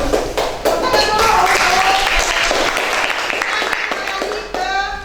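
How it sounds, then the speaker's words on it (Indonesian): Students in a classroom give a round of applause, dense, steady clapping that fills the whole stretch at close range, with a few voices mixed in and a brief dip near the end. "Tepuk tangan dulu."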